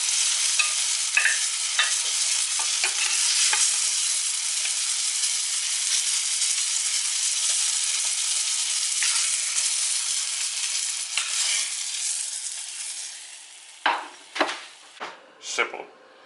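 Fish coated in egg and flour fries in butter with a steady, close crackling sizzle for most of the clip, then a few sharper clinks and pan knocks near the end.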